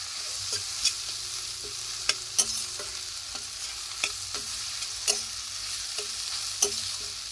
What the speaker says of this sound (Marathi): हिरवी मिरची छान परतली गेली पाहिजे.